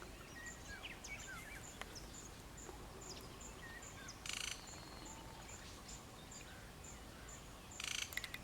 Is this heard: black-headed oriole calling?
yes